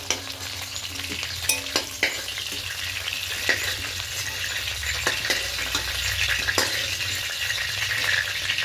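Rohu fish frying in hot oil gives a continuous close sizzle, punctuated by scattered light utensil taps and scrapes throughout, with no talking.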